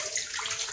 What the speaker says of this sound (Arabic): الميه كده مش عاجباني اهو، هشطفها وهحط ميه بملح بليمون غير اهو